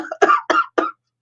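Three short, harsh coughs in quick succession during a breathing exercise, close and fairly loud, with no talking.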